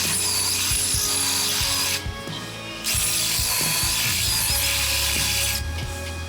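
A power drill whines and grinds into a car's metal chassis frame in close, loud bursts, with a brief pause before drilling resumes.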